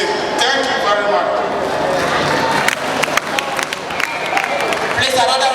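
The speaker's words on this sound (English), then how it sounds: "another round of applause" Sustained applause from a crowd at a political rally in Hohoe, steady clapping filling the space with some voices mixed in.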